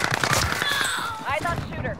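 Rapid automatic gunfire bursts crackle close by in Call of Duty: Modern Warfare, with a player's voice talking over the shots throughout.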